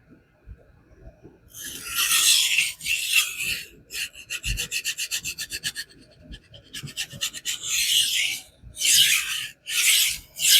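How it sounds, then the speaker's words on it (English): Soligen Germany knife ground on a King 300 whetstone to set a bevel, a steady rasping scrape in repeated strokes, with a quick run of short rhythmic passes in the middle, close and loud with no voices. "I love the King 300. It's such a nice sharpening stone."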